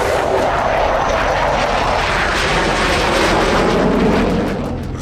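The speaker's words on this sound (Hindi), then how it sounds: "रूस के सुखोई लड़ाकू विमानों ने इस दौरान आसमान में अपनी ताकत दिखाई।" Russian Sukhoi fighter jets fly overhead at the Dubai Air Show, a loud, continuous, broadband jet engine roar that holds steady for several seconds before easing slightly, with no voices.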